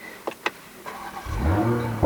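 A Toyota GR Supra A90 with a 3.0-litre inline-six starts up after a couple of clicks, the starter catching and the engine firing into a rising, throaty idle close by, with no voices.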